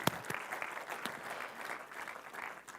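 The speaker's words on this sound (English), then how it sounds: "So a round of applause for them" Audience applause for the previous year's speakers at the Swift Heroes 2025 developer conference, a short, fairly quiet patter of clapping from a modest crowd with a few sharper claps standing out.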